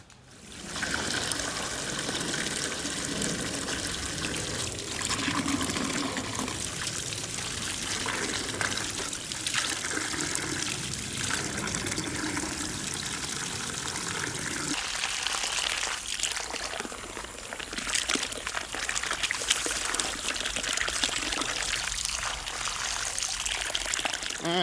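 Water from a garden hose pours steadily into a pot outdoors, a continuous close splashing and trickling rush lasting over twenty seconds with slight shifts in tone as the pot fills.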